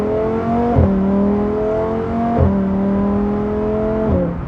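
A Lamborghini Huracán STO engine, not yet warm, drones in steady harmonic tones, revving up briefly to about 5000 rpm three times at regular intervals, loud and close with no talking.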